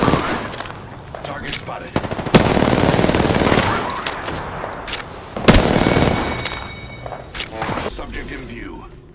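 Gunfire in the battle game Apex Legends: loud rapid automatic bursts and single sharp shots cracking repeatedly through the scene, with a voice speaking briefly between them.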